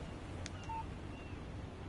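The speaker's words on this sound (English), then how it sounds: "Text message from Barry" A short, single electronic chime of a phone text-message alert in the Alan Wake 2 video game, faint and brief over a steady low background hum.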